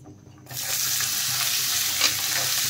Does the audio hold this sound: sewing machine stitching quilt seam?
no